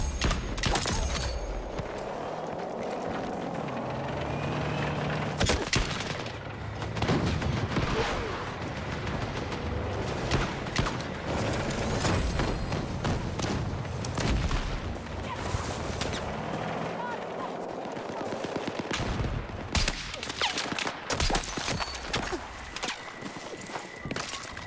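Gunfire aimed at the player in a video game, repeated sharp shots and bursts scattered through a dense, loud battle soundscape, with talk over parts of it.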